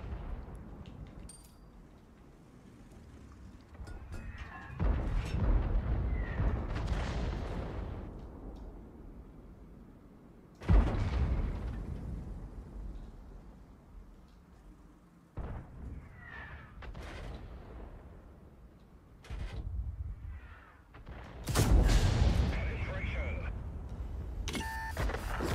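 Tank cannons fire in an online tank battle game, several heavy booming shots spaced through the span, each with a loud burst and rumbling decay, while someone talks in between.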